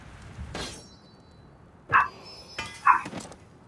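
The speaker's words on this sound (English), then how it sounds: "Sorry for the dogs." Dogs barking in a home while Warhammer Vermintide 2 is being played, three short bursts of barking spaced a second apart, faint to moderate over a quiet background.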